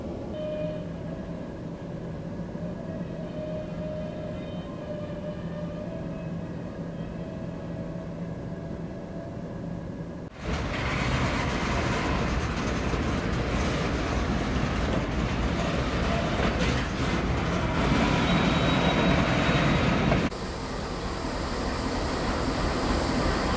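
Heavy rumbling freight train noise with a low drone, growing louder and rougher partway through as the reversing rail cars roll and clank slowly past in a yard.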